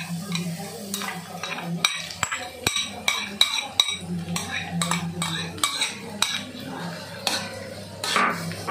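Blended garlic sizzles in hot oil in a pan, with a steady fry hiss broken by sharp metal clinks and scrapes of a utensil against the pan.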